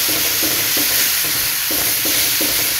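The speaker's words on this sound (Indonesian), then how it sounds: "Kita goreng bumbunya dulu sampai wangi dan berubah agak layu gitu" Spices sizzle steadily in a little oil in a well-used blackened wok, with a bright continuous hiss broken by regular scraping stirs about every half second, close and loud.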